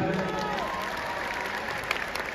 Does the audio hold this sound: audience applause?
yes